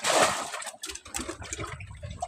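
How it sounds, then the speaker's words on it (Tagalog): Water poured out of a container on a fishing boat, a brief splashing gush at the start followed by fainter trickles and sloshing. "Bawasan muna natin tubig."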